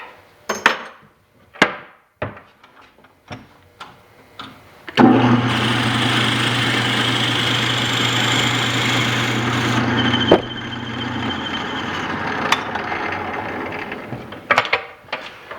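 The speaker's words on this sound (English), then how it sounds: "drill the hole the other direction" After a few sharp knocks, a power drill whirs steadily for several seconds, bites into wood, then slows and stops, followed by scattered clatter.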